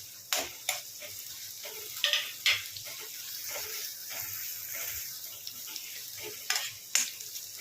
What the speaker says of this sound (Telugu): పచ్చిమిర్చి ఇట్లా బాగా ఫ్రై అవ్వనివ్వండి